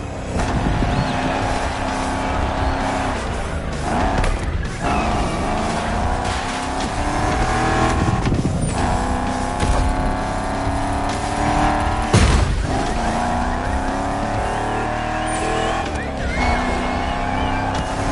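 A car's engine drones steadily as it laps around during a film shoot, rising and falling with gear changes and a few sharp bumps, loud and continuous throughout.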